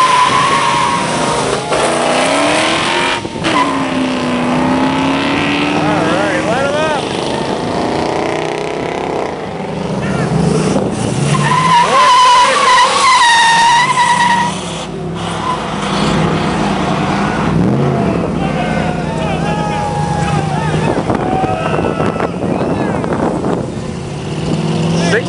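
Muscle cars leaving a car show, engines revving and rumbling up close as they pull out one after another, with rising and falling whines over a continuous crowd-like background.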